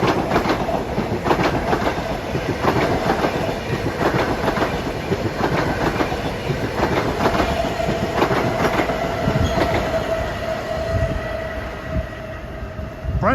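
An LIRR M9 train rolls past eastbound at Forest Hills station, a loud, steady roar of wheels with rhythmic clickety-clack over rail joints, continuous for the whole stretch and easing slightly near the end.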